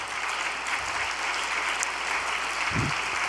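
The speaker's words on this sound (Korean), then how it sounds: "박수로 환영하시기를 바랍니다" Audience at an all-night prayer gathering applauding to welcome guests, continuous clapping at moderate level, with a couple of low thumps near the microphone.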